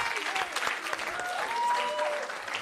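Audience at a learner-leadership summit applauds steadily for about two and a half seconds, a dense even patter of many hands at moderate level, with a few faint voices over it.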